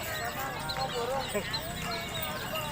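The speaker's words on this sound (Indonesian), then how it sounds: "ini kudanya ada 2." The hooves of two horses clip-clop in a steady rhythm with a whinny rising over them, mixed with talking voices.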